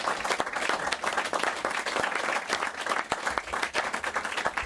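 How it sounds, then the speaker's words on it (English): A capacity crowd in a television studio breaks into sustained, dense applause for football legends, loud and even throughout with no voices on top. "give our legends a round of applause"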